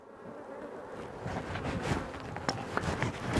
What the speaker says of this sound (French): Attention les petites abeilles.